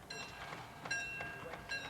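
A train approaches a level crossing, heard faintly as a distant rumble with steady tonal ringing and soft rhythmic pulses.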